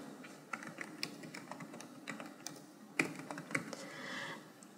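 Keys clatter on a computer keyboard as a login and password are typed, quick irregular taps with brief pauses and a short burst near the middle, close and fairly quiet.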